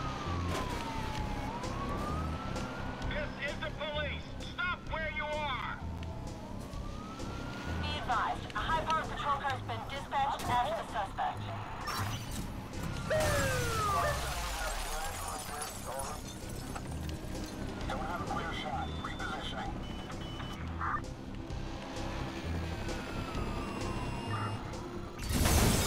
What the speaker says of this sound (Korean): 소방차는 정말 대단한 것 같아.